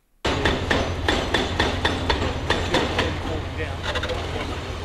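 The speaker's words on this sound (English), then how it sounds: "The hammering sounds of demolition stands in stark contrast to the roaring crowds of Lancaster Park's glory days." Repeated hammer blows ring out during demolition of the earthquake-damaged Lancaster Park grandstands in Christchurch, a steady rhythm of sharp, loud strikes about every half second over constant machinery rumble and site noise.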